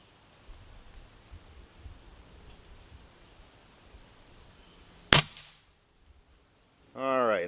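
An Umarex Origin 25 pellet air rifle fires a single sharp, loud crack after a few seconds of quiet rustling, followed by a short fading tail and a brief voice at the end.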